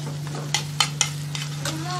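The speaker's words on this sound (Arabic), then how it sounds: "ودلوقتي عندي ده قرن فلفل انا مقطعه صغير، هضيفه برضو معاهم واديله تشويحة" Finely chopped chili pepper is sautéed in a pan with other ingredients while cooking cauliflower omelette. Soft sizzling runs throughout, broken by several sharp clacks of a utensil stirring against the pan.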